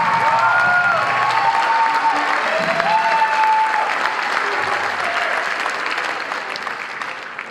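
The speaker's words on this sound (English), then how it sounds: "let's get a nice round of applause for your students one last time tonight" An audience applauds after a school marching band concert, a dense, sustained clapping from a crowd that keeps going steadily and then slowly fades.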